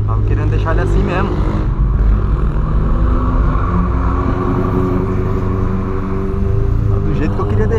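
Loud, continuous engine roar from a Volkswagen Polo with a straight-through exhaust, revving hard with rising and falling pitch and a sharp rev around two seconds, while someone talks over it throughout.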